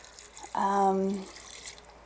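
Water poured into an Instant Pot over smashed pesto pasta ingredients for an easy weeknight dish, a single steady pour lasting under a second, fairly close and clear.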